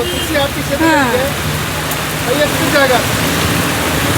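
Steady rain falls over a roadside weekly market beside a national highway. The downpour hisses evenly throughout, and faint chirps and voices come through beneath it.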